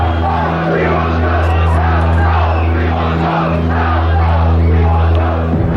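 A large crowd of 1968 Chicago protesters at the Democratic National Convention chanting in unison, a loud, dense, sustained roar of massed voices with a steady underlying hum.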